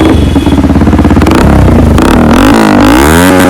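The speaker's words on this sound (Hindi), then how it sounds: "हमने इंस्टॉल किया है यामाहा MT-15 में ऑस्टिन रेसिंग का एग्जॉस्ट" A Yamaha MT-15 fitted with an Austin Racing aftermarket exhaust revs hard and loud up close, its engine note climbing and falling through several quick throttle blips with a raspy, crackling tone.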